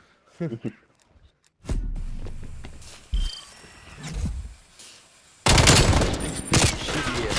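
Gunfire in the video game Call of Duty Black Ops Cold War, with bursts of automatic fire and single heavy shots scattered through, ending in a loud sustained volley, while players talk over it.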